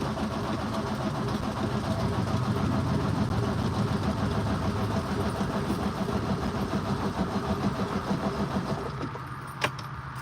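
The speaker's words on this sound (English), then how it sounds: "You know how hard that thing's cranking? It's ready to start." A truck engine cranks hard and steadily for about nine seconds, a dense rumbling churn up close that fades near the end and is followed by a single sharp click.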